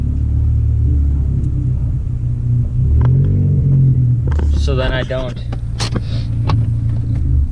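A car easing into a tight home garage, low engine rumble throughout, with someone talking over it partway through.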